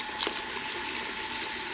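Tap water runs in a steady, even hiss, filling a denture cleaning container with warm water at a sink, close by and continuous through the whole clip.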